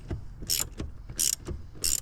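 A ratchet on a 13mm socket clicks in short bursts as it loosens the mounting bolts of a brake booster on a BMW E90/E92 328i or 335i. The metallic ratcheting comes in three quick runs, close by and fairly quiet, with light handling noises between them.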